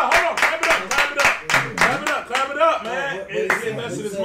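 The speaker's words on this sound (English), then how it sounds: "Clap it up, chat." A few people clap in sharp, loud bursts at close range in a casual audition setting, the rhythm uneven with claps bunching and pausing, while voices talk and shout over them.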